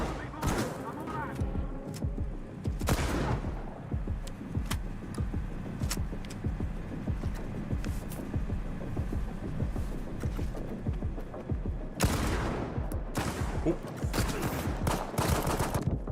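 Dense, continuous gunfire in the video game S.T.A.L.K.E.R. 2, rapid shots and bursts layered over in-game ambience and mechanical noise, with louder flurries near the start and toward the end.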